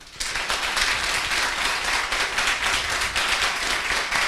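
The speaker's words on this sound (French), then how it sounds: "Applaudissez-vous." Loud, close audience applause at a jury presentation event, a full, dense burst of many hands clapping that starts abruptly and continues evenly with no pause.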